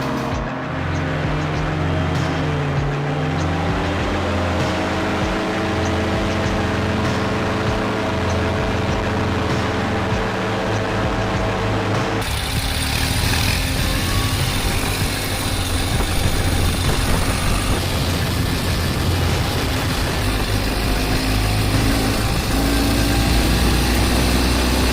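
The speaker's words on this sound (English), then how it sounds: "and the boats are turbocharged." Turbocharged motorboat engine on a wide river in the Ural region, a loud steady drone with constant churning wash that shifts tone partway through and runs continuously.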